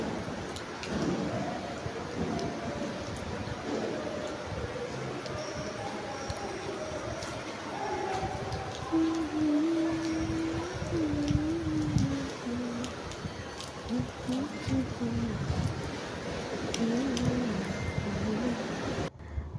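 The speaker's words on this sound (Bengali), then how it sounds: "বৃষ্টির শব্দ শুনতে ও দেখতে বেশ ভালোই লাগে।" Heavy monsoon-style downpour drumming steadily and continuously, with low rumbles that may be distant thunder and occasional bird calls over the wash of rain.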